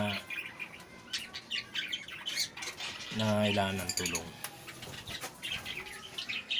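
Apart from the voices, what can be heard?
pet birds chirping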